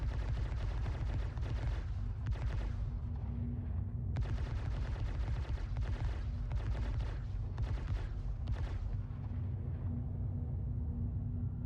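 Sustained rapid fire from a ship's Omnisky size 4 turret in a space video game, heard from inside the ship as a heavy, continuous booming rattle with a few brief pauses.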